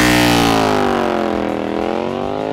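An Indian Scout motorcycle engine revs loud and close, a sustained high-pitched roar that holds near its peak and then slowly winds down over a couple of seconds, with no voices.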